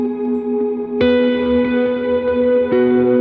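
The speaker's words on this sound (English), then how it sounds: "the thing about running verb into delay is now that your delay repeats have reverb on them" Sustained electric guitar notes through reverb feeding a delay pedal, so the trailing delay repeats carry washy reverb, two fresh plucked notes ringing out into lingering echoes.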